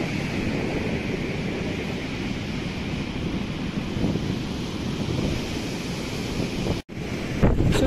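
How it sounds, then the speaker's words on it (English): Steady wind buffeting the microphone over rolling surf at a beach in Salalah, Oman, during the khareef season, loud and continuous, with a brief dropout near the end. "It's too windy, breezy."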